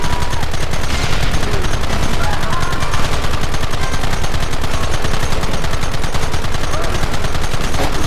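Constant rapid gunfire in Red Dead Redemption, a loud, dense rattle of repeated shots that carries on without a break during a chase after Dutch.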